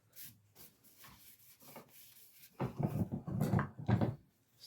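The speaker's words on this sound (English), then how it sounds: "if I just put that onto there, onto the end, to rub it on the whole handle" Wood stain is rubbed by hand onto an ash tool handle, producing soft, close scrubbing strokes in short rhythmic passes that grow louder and quicker toward the end.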